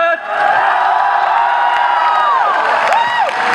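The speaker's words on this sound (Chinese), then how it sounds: "来，大家给他一个最热烈的掌声。" A large crowd at a metal concert in Taiwan cheers and whoops loudly and steadily, with scattered shouts and whistles rising above a dense roar throughout.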